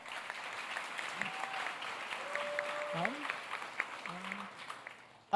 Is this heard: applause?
yes